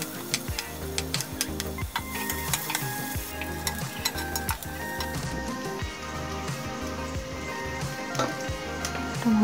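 Onions sizzling and frying in hot oil in a pressure cooker, with steady crackling and occasional metallic stirring clinks throughout.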